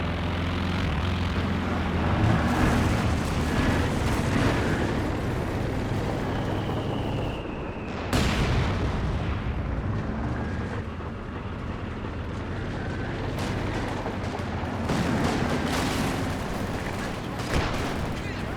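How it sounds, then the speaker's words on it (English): Dense wartime din from a Company of Heroes 2 battle on a muddy map, with grenade blasts, artillery booms and aircraft engines roaring together in a constant loud wash, and a sharp detonation midway. "Sending a grenade out there."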